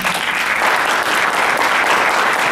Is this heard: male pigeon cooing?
no